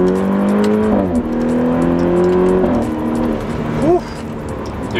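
BMW 328 with N20 engine and Bootmod3 stage 2 tune pulls hard in second gear, the engine note rising steadily, dipping briefly and climbing again, loud and close from inside the car.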